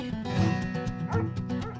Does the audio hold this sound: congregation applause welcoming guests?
no